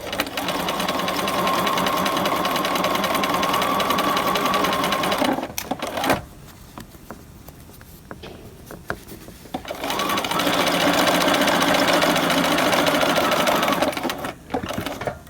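A sewing machine stitches a collar with a lengthened straight stitch, running in two steady loud bursts with a quiet pause between them.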